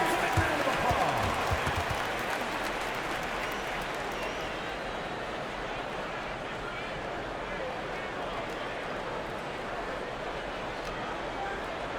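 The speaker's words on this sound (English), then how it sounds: "Give yourselves a big round of applause." Arena crowd applause and cheering at an Oklahoma City Thunder vs Sacramento Kings playoff basketball game: a dense, steady roar that stays loud throughout, with a commentator's voice over it.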